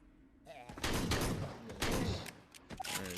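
Rapid bursts of gunfire from the video game Drop Dead: Dual Strike Edition, with loud clustered volleys and short gaps, mixed with other game sounds.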